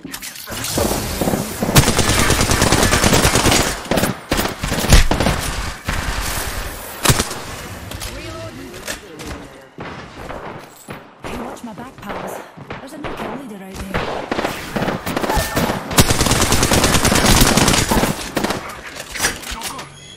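Gunfire in the online battle royale game Apex Legends: loud, dense bursts of automatic weapon fire and impacts during a firefight, with character voice lines spoken over the shooting.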